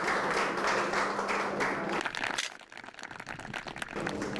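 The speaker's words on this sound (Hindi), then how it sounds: "जोरदार तालियां एक बार फिर से बजा दीजिए" Applause from a rural quiz-show audience, a dense wash of clapping that thins and dips partway through before swelling back to full strength.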